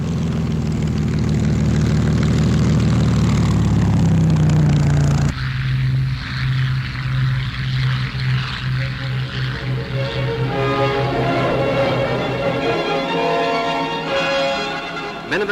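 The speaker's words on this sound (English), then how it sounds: "the aircraft is seen in the running up department" Wartime Spitfire aircraft engines run up for testing, a loud steady propeller roar that cuts to a different engine drone midway and keeps running without speech.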